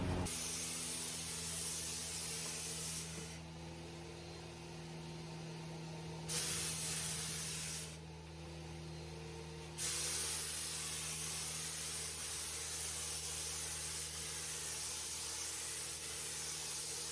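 Mini Mite 5 spray gun laying a base coat on a rock-chipped car hood: a steady, loud hiss of spraying that stops briefly twice in short gaps, then runs on continuously.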